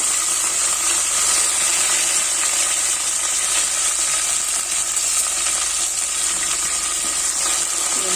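Mustard seeds, fenugreek and curry leaves sizzle and crackle in hot oil, a continuous bright frying hiss with no voices.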